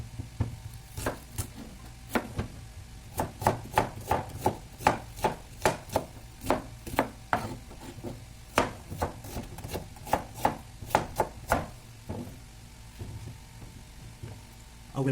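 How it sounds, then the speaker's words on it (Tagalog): A knife slicing an onion on a cutting board: a series of crisp, evenly spaced chops that occasionally speed up, close by over a faint low kitchen hum, with no talk. "So I'm going to slice the onion."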